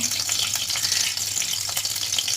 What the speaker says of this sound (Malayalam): ഞാൻ വെളിച്ചെണ്ണ ഒഴിക്കുകയാണേ